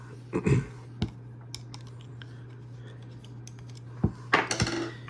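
Small screws are loosened on the sheath of an Esee Laser Strike knife, giving sparse close metallic clicks and scrapes with quiet gaps between them and a cluster of sharper taps near the end.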